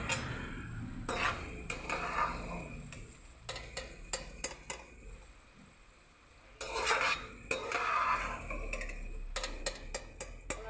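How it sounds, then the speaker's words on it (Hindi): Masala and potatoes stirred and fried in a pan for a capsicum and potato salan: repeated sharp spoon scrapes and clinks against the pan over a soft, steady sizzle, close up with no talk. "मसाला भून रहा है।"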